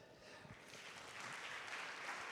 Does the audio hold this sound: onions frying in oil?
no